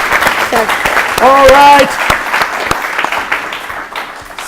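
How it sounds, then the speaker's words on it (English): At a national quiz competition, an audience applauds to welcome champion teams from the South Zone, with clapping under a voice that speaks briefly and faint crowd noise. "Let's welcome all of them once again with a round of applause."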